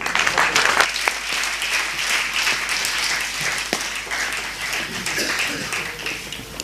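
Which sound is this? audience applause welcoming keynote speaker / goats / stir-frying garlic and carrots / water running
audience applause welcoming keynote speaker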